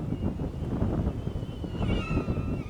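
Strong wind roaring into the microphone during a DJI Neo drone flight, a loud continuous low rumble with a thin high whine from the drone over it, no talk.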